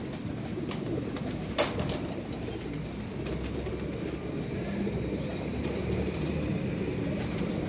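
Teddy pigeons, a fancy breed, coo softly and steadily in a loft with a brief sharp knock or flutter near the start, over a constant low background hum.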